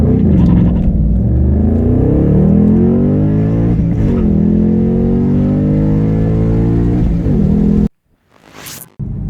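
A Toyota Supra with a BMW B58 engine revs loudly close by, with several rising and falling sweeps of engine pitch before it cuts off abruptly into near silence and then a brief whoosh.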